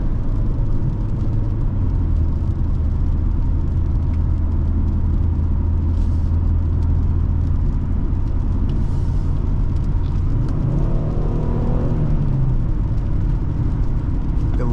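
A 2014 Ford Taurus Police Interceptor with the 3.7L engine kicks down and accelerates, its deep steady drone heard from the cabin with road rumble and a rising engine note near the end.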